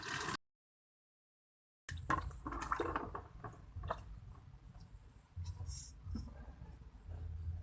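Water pours into a container during a hydrostatic pressure physics lab, filling it to a depth of 15 cm. After a short silence the splashing and gurgling runs on fairly loud and close, with bursts of turbulence.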